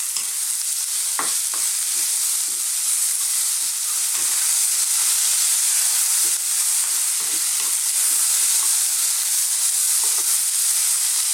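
Garlic and ginger stir-fry in sesame oil in a wok over very high heat, a bright, continuous hissing sizzle with frequent light scrapes and tosses, no voices.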